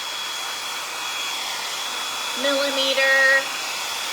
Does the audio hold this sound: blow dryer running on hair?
yes